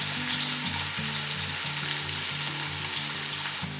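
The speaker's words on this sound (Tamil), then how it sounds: "ஃபஸ்ட்டு வெங்காயத்தை பொரித்து எடுத்துக்கலாம்" Sliced onions deep-frying in groundnut oil for mutton biryani give a steady, loud, dense sizzle and crackle that holds without a break from start to end, with no voices.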